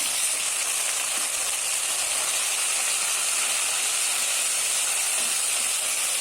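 A paste of onion, garlic, ginger and cumin fries for a duck curry, giving a loud, constant, close hiss and sizzle with no break or talking.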